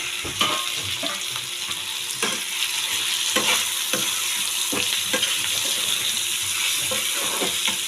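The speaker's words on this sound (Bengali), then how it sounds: "প্রায় ভাজা হয়ে এসছে, তারপর আমি দেবো আলু আর মশলা" Tomatoes sizzle and fry in a pan as a base for a fish curry with potatoes and spices, with a steady crackle and repeated sharp scrapes of a spatula stirring close by; no one speaks.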